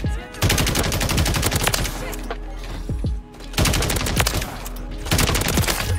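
Light machine gun fire in Call of Duty: Modern Warfare 3, loud sustained automatic bursts with brief pauses between them, close and dominant throughout.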